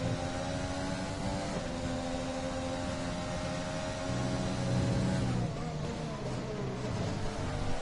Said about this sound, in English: not a fan of that engine noise there